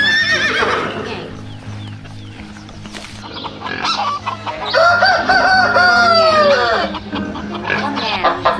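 A rooster crows loudly and close by, giving a few drawn-out, wavering calls in a farmyard setting, with faint background animal noise between them.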